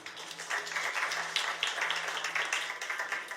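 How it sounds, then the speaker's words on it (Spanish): A small group applauding a newcomer named Vivi at a church gathering: steady, moderate clapping heard from close by, continuing throughout without talk. "Un aplauso para Vivi,"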